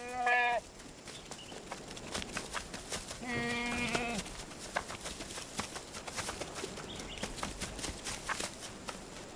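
Goats on a remote island bleat in two short wavering calls, one at the start and one a few seconds later. They are quiet and set against faint rustling and footstep-like clatter.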